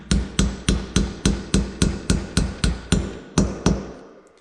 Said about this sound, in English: when you're hammering them down, you can feel when it stops